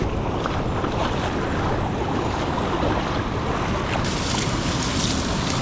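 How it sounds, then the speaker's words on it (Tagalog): Rushing water at Malubog Falls in Cebu, a steady broadband roar that holds loud and unbroken throughout, close and alone with no voices. "Falls. Malubog Falls."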